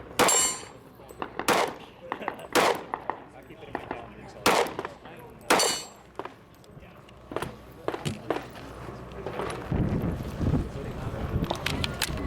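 Cartridges are pressed one by one into an extended Springfield Armory pistol magazine at a SHOT Show 2016 media day, giving sharp, irregular metallic clicks and clacks up close over a busy, noisy background.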